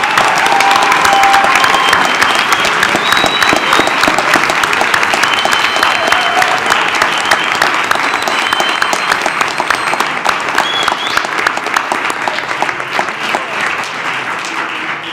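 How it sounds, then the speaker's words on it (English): A school board meeting audience gives a long round of applause for championship boys soccer players and their coach, steady, close clapping from many hands that tapers only slightly over fifteen seconds. "Let's give these guys a round of applause."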